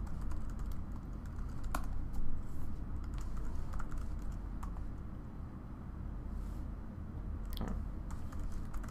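Fingers tap out a command on a computer keyboard while setting up a Rackspace cloud server, a run of close, quick, uneven clicks with a few sharper key strikes, no voices.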